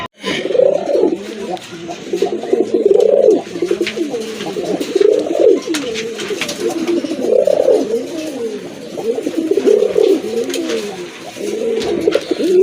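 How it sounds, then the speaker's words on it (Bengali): A pair of deep red Rajgolla fancy pigeons coo close by in repeated rolling, throaty phrases that rise and fall every second or two, with faint background noise and no speech. "মাশাল্লাহ দেখেন এক জোড়া রাজগোল্লা কবুতর, টকটকে লাল কালার"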